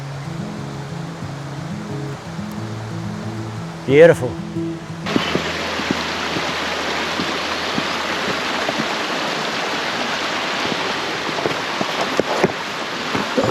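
Bells Falls waterfall comes into earshot as a broad, steady rush of falling water that surges in loud and stays constant, with a short spoken word over it.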